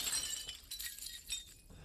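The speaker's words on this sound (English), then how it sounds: "ceramic shatters like that when you hit it with the knife" Ceramic pot in the Resident Evil Village game shattering when struck with a knife, a faint crisp breaking crash with scattered clinking shards over about two seconds, no talking.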